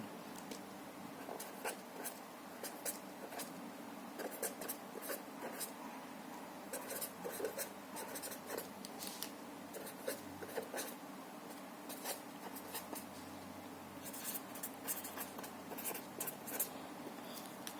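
A pen scratches steadily across a writing surface while a linear equation example is written out by hand, close and fairly quiet, with short strokes and taps in an irregular rhythm and no talking.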